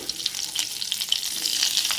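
Cauliflower, potato, carrot, capsicum, onion and peas sizzle and crackle in a hot pan, a bright continuous frying hiss with small pops, close and fairly loud.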